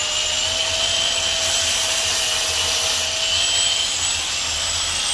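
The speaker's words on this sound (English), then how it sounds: "I'm gonna hit it with this belt sander and see how it works" A belt sander grinding an LT2 engine intake, a steady, loud, high whine with constant abrasive hiss and no breaks or talking.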